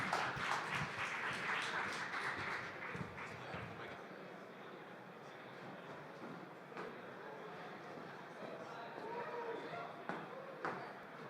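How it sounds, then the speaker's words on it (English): Crowd applause at a conference stage, dense clapping strongest in the opening few seconds and then thinning to scattered claps, with a voice speaking over the tail. "Big claps"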